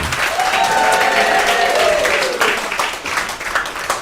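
A live audience at a Saturday night spiritualist gathering gives a steady round of applause mixed with cheering. Clapping stays loud and close throughout, with a brief voice at the start.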